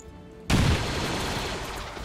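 Grenade explosion in the XCOM 2 video game, Clone Wars mod: a sudden loud blast after near silence, followed by a sustained rumbling, crackling debris tail lasting over a second and a half.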